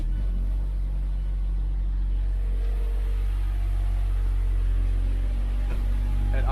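Supercharged Mazda 6 engine idling, a steady low rumble with a faint hum above it, even and constant throughout, heard close with no other sounds.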